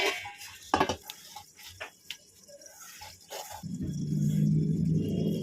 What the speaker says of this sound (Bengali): এবার এই সব কটা জিনিসকে একসঙ্গে মেখে নেব, অল্প অল্প জল দিয়ে নেব।